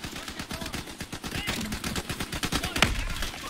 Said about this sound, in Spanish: Se oyen disparos. Muy peligroso.